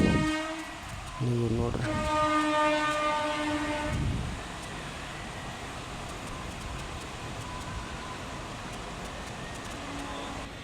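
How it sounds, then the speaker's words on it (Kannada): A train passes close by near a temple, its loud horn blasting in layered tones for several seconds, then the rumble of cars rolling past steadily; someone speaks briefly. "ಹಂಗೆ ಒಂದು ಟ್ರೈನ್ ಬಂತು ಹಂಗೆ ಪಕ್ಕದಲ್ಲಿ"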